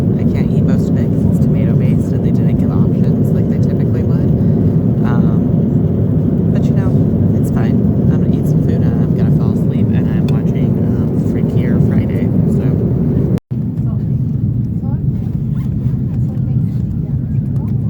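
Steady broadband roar of a Lufthansa airliner cabin in flight, a constant low engine and airflow drone that holds unbroken, then cuts out abruptly near the end before resuming more quietly.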